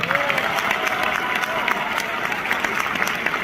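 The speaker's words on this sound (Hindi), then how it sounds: "मैं चाहता हूं दिल से उनके लिए ताली बजाए" A hall audience claps for a leader on stage, dense continuous applause from a large crowd, loud and steady, with faint cheering mixed in.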